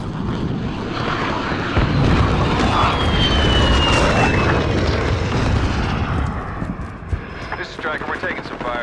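A jet aircraft in Call of Duty Modern Warfare roars steadily and loudly throughout, with a faint descending whine sweeping past midway and game radio chatter mixed in.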